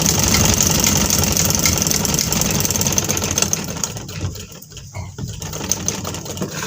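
A sewing machine stitches a gents shalwar with a steady, fast mechanical whir and rattle that runs close and continuous before thinning out near the end.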